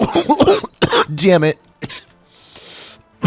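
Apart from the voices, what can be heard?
coughing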